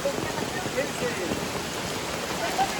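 Steady rain hisses while someone walks outdoors through a downpour, a dense even wash of falling water with faint droplet patter, mostly alone with little else audible.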